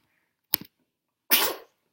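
A single short sneeze bursts out close and sharp after a tiny catch of breath, in an otherwise quiet room.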